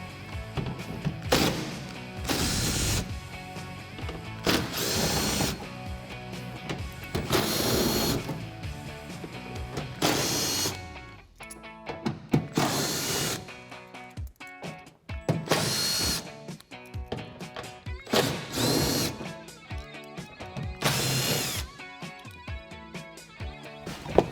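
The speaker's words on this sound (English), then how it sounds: "I'm going to take my impact gun with my 8mm and start removing our screws" Impact gun with an 8mm socket removing screws from the liner of a 2012-2018 RAM 1500, repeated loud close bursts of whirring rattling hammering, each lasting about a second, separated by short quieter pauses and small handling clatter.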